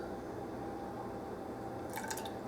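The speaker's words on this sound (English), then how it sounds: "A splash of rice vinegar and a splash of sesame oil." A quick splash of rice vinegar poured into a bowl for sticky crispy orange shrimp: a quiet, brief liquid trickle and drip over steady kitchen background hiss, with a small clink near the end and no speech.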